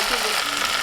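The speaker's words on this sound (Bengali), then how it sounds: "পেঁয়াজটা একটু ভেজে নিয়ে এখন দিয়ে দিচ্ছি পাট শাক" Jute leaves frying with chopped onion and dried chilli in a pan, a brief, loud, continuous hiss of sizzling close by.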